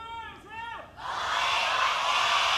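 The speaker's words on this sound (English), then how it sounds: "The Meta Athena crowd had to remember, like, oh yeah, we're supposed to cheer here." Overwatch esports arena crowd at an Apex Season 4 match breaking into loud, sustained cheering and shouting after a brief announcer voice, filling the space densely.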